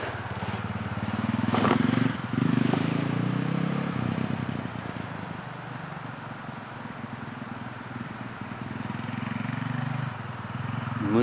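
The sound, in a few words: motorcycle passing by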